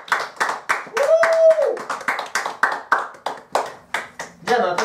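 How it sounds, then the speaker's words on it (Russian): Steady rhythmic clapping from a group, regular beats throughout, with a sustained vocal tone rising briefly near the start. "Аплодисменты!"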